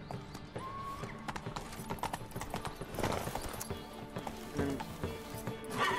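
Roach, the horse in The Witcher 3, trots with a quick run of hoof clip-clops at middling volume, joined by a short whinny-like tone and light game ambience.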